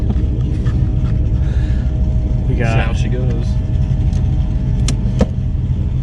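Steady low engine rumble of a car on its first cruise, a possible LS swap candidate, running continuously close by while people chat briefly over it.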